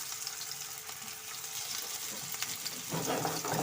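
Potato tikkis frying in oil in a frying pan over low heat, a steady close crackling sizzle that grows slightly louder and busier toward the end.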